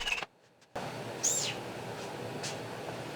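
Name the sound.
squeaking while cutting steel rod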